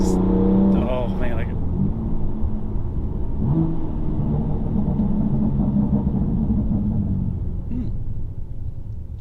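A BMW M2 Competition engine drones and rumbles steadily while driving, revving briefly near the start, with road noise and someone speaking over it.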